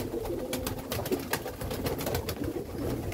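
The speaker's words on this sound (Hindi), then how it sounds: "ये सीन है, कबूतर कितनी खुशी से खाने आ रहे हैं" Breeder pigeons cooing softly while flocking in to feed, a steady low murmur of coos with faint fluttering and scattered clicks throughout.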